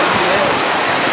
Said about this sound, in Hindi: देखिए बिल्कुल नज़दीक से देखिए छोटे से झरने को